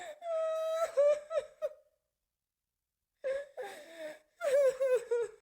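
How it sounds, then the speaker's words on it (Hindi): A young girl's wailing cry outside a house at night, sobbing in drawn-out tonal bursts with gasps, pausing into silence before resuming in shaky whimpering phrases, close and clear. "घर के बाहर किसी बच्ची के रोने की आवाज"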